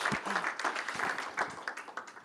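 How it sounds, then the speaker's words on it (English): Audience applause at a live-streamed academic event: a moderate, steady patter of clapping from a room of people, fairly even throughout the short stretch. "I just want a bit of a louder applause"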